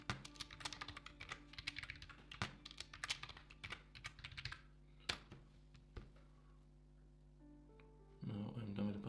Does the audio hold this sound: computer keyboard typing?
yes